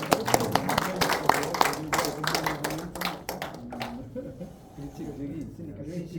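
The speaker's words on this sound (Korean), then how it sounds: "앵콜곡 듣기 전에 뜨거운 박수 한번 더 보내주시기 바랍니다" Audience clapping at a literary seminar, a burst of dense hand claps over the first four seconds that thins out, with voices talking underneath and afterward.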